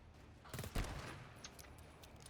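Gunfire in the co-op shooter GTFO: a short burst of shots with one sharp, heavy blast standing out, set against a dense, rumbling game background with no talk.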